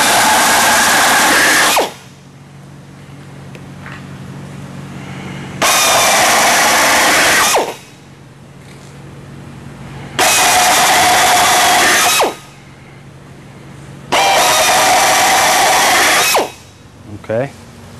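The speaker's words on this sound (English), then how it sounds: "just drill your holes" A power drill bores holes in aluminum extrusion during assembly of an MMG knockdown kit, four loud bursts of whining drilling, each about two seconds long, separated by quieter pauses with faint handling noise.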